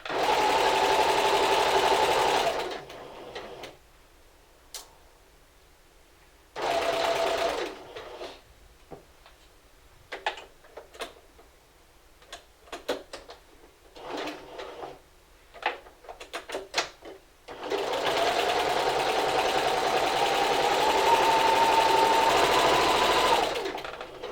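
A sewing machine stitches a seam for a Simplicity 1562 garment, running in loud steady bursts at the start and again through the last several seconds, with quieter handling clicks and taps in between.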